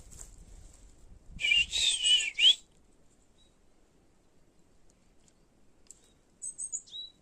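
A bird sings a bright, trilling phrase in a quiet forest, then falls silent before a few short, high chirps follow near the end.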